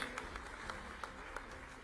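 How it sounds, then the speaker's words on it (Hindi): Faint, distant clapping from an audience at a Bhopal government policy launch event, a few sparse, evenly spaced claps rather than a full ovation. "जोरदार तालियां"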